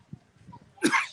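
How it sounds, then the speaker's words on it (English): A single sharp cough from a man, close and moderately loud, after a short stretch of near-silence with faint low murmuring. "I got a cough, excuse me."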